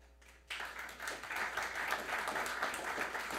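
An audience at a city council meeting in Capitola breaks into applause, sudden dense clapping that starts after a brief quiet moment and holds steady, moderately close in the room.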